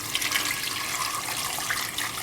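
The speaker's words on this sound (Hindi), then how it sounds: "इसमें अपने अब आलू ऐड करके इसे पानी डालना है" Water splashes and gushes steadily into a pot of potatoes in a home kitchen, a close, continuous pouring sound with no talk.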